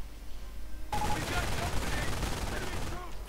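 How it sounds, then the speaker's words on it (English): An MG42 machine gun fires a sustained burst in a World War II strategy game, a dense stream of gunfire that breaks in suddenly, with other battle noise beneath it. "MG42 stopping the flamethrower engineers there."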